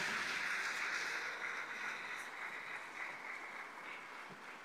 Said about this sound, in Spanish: a quien le damos un fuerte y caluroso aplauso